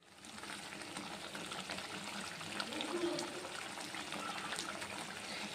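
Egg curry simmers in a covered pot, giving a soft, continuous watery bubbling and hiss, faint and steady throughout.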